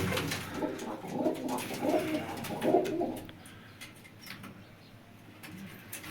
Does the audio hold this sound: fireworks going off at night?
no